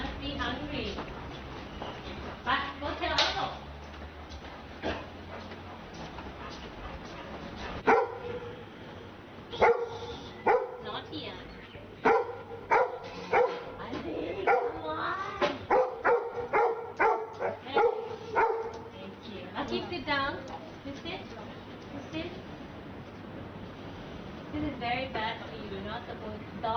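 A dog barks and yips in repeated bursts, some sharp and close, mixed with whimpering sounds, while people talk over and between the barks.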